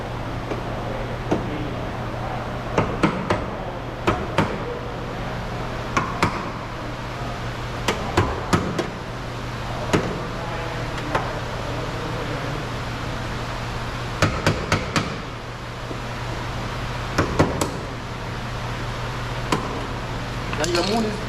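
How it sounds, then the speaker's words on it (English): Sharp hammer blows chopping off plastic clips on a 2016 Toyota Corolla fender and bumper strike repeatedly at irregular intervals, some in quick pairs, close up over a steady background hum. "Get your hammer and something sharp and chop these off."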